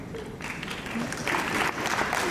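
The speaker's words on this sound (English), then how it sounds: "Don't clap yet." An audience at a Bruce Campbell appearance breaks into applause, a dense, steady patter of clapping from a crowd filling the whole stretch, moderately loud and slightly distant.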